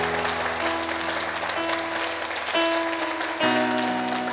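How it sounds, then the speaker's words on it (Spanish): A church congregation applauds loudly during a service, a dense continuous wash of clapping over sustained musical tones, with no speech. "Si le vas a dar un aplauso a Dios,"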